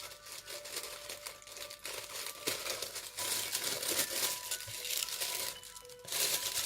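Tape torn and peeled off a beauty box package, close crinkling and ripping bursts with scratchy rustles in uneven spurts, fairly quiet with no talking.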